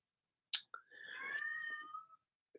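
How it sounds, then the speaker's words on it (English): A domestic cat meows at a door: a quiet click, then one drawn-out, wavering meow with a few faint taps around it, heard alone in a silent room. "Cat's meowing at the door."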